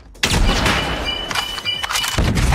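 Sniper rifle shots in a first-person shooter game, a loud sharp report at the start with a ringing tail, followed by further gunfire and a second heavy shot near the end.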